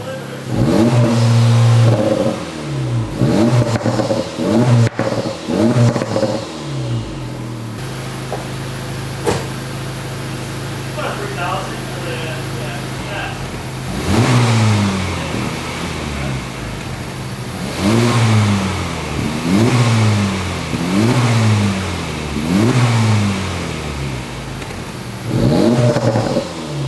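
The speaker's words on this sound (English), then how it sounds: "I'm going to bang it off the limiter." Acura Integra or Honda Civic Type R engine banged repeatedly off a soft rev limiter, a series of sharp revving rises and cut-off drops in rapid rhythm, loud and close.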